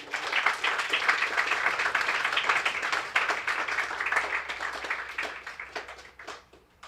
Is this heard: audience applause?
yes